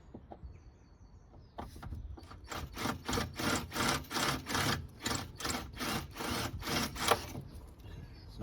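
On a 2001 Vauxhall Omega B facelift, a drill bores out pop rivets holding the window regulator, making a steady run of about a dozen rhythmic, gritty grinding strokes, close and fairly loud.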